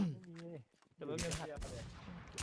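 A voice speaks briefly, then sharp bursts of gunfire from the video game WarZ crack out, with a couple of loud close shots and noisy decay.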